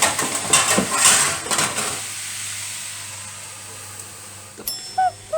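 Onions stirred in a pot with a spoon, scraping and sizzling for a couple of seconds, then quieter simmering before a lid clanks down on the pot near the end.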